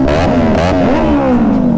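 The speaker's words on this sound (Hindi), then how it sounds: "गाइज एग्जॉस्ट साउंड सुनना इसकी यार।" A Kawasaki Ninja 400 exhaust, recorded up close and loud, revs briefly, its engine note climbing and then easing back down in a short burst.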